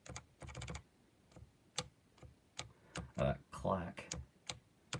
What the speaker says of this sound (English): There's a plasticky kind of clack.